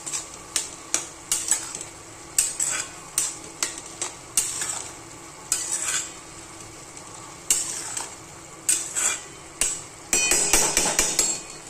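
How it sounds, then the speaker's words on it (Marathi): Crushed peanuts and coconut being stirred into a pan, heard as repeated rhythmic scraping strokes of a spoon against the metal over a steady low sizzle, close and with no talk. "हे शेंगदाण्याचा कूट थोडासा केलेला आहे, खोबरं शेंगदाणा थोडंसं घालायचं आहे, लई नाही घालायचं. आणि आता आहे ना हे असं मिक्स करून द्यायचं."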